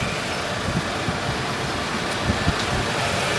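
A 2000 Toyota Camry LE's 2-liter four-cylinder engine idles at close range under an open hood, giving a steady, even drone with a faint hum and no talk.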